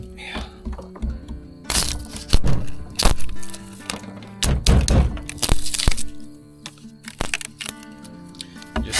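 Hard cracks, thunks and splitting knocks ring out at irregular intervals, close and loud, as a tool works the bottom of an Osage orange bow stave square, with quieter scraping between strikes.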